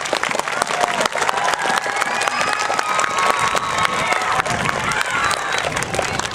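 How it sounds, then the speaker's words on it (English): Loud applause and cheering from a school community gathering, many sharp claps with children's shouts and crowd voices mixed throughout, steady and close for several seconds. "So let's give our community a great big round of applause."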